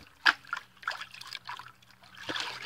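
Sand in a pan shaken and dipped into water, giving soft sloshing and trickling splashes in several short bursts, one sharper splash near the start and another near the end, close up with no talk.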